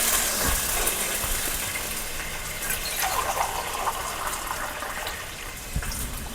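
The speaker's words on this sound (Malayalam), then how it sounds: "രണ്ട് ജഗ് വെള്ളം ഒഴിക്കാം" Water is poured from a jug into a cooking pot of tempered mustard seeds and chillies while making semiya upma, a steady splashing gush with brief gurgles and a low background hum, heard without voices.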